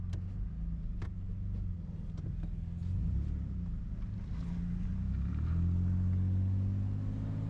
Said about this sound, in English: The truck is driving again.